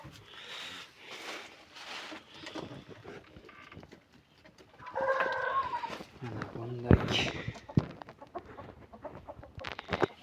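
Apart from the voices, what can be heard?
black chickens clucking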